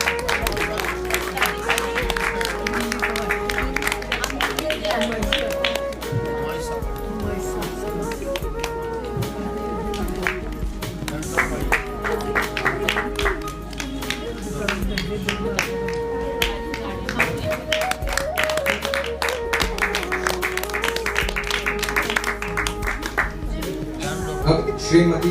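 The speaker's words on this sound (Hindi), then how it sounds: "उनके लिए जोरदार तालियां।" An audience at a prize distribution ceremony claps steadily for an award recipient, a sustained patter of many hands mixed with tonal background sound and a voice at times.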